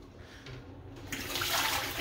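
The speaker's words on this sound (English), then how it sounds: "if you go too quickly, it's gonna squirt at you, just like it did" Water from a bathroom sink faucet, just turned back on after clearing a clogged line, sputters and then gushes more strongly, close and fairly loud.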